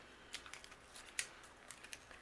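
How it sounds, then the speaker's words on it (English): Release paper peels off adhesive foam strips in a papercraft session, faint crisp crackles and short tearing ticks scattered through a quiet room. "I'm gonna remove the release paper,"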